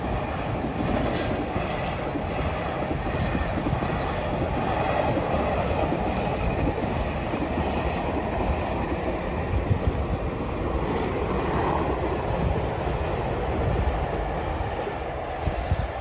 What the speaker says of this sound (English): Another train, hang on.